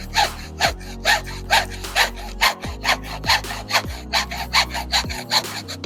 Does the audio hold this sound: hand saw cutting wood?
yes